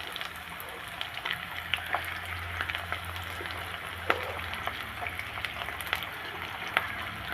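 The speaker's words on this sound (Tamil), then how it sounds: "இப்போ ஒரு மீடியம் சைஸ் வெங்காயத்தை இதில் ஆட் பண்ணிக்கலாம்" A medium-size onion frying in a pan with cumin seeds, a soft steady sizzle with scattered small pops and crackles, fairly quiet and without talk.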